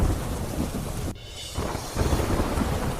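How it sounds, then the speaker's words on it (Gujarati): Torrential downpour with thunder in Junagadh district, a dense hissing roar of heavy rain with low rumbling that briefly drops away midway and then returns at full strength. "જૂનાગઢ જિલ્લામાં ધોધમાર વરસાદ થતા જળબંબાકાર"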